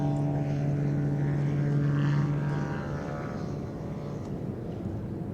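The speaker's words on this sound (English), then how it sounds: "There's the smoke on, and now opening the throttle to power away, oh, just a few feet from the ground." A display aircraft at the Midlands Air Festival powers away low over the ground, its propeller engine droning loudly with strong steady tones that then fade and ease off as it pulls away.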